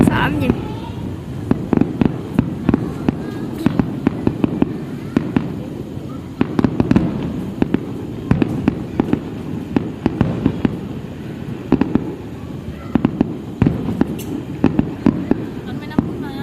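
A fireworks display at Hồ Văn Quán exploding in rapid, irregular volleys of sharp bangs and crackles, loud and sustained, with people talking and exclaiming throughout.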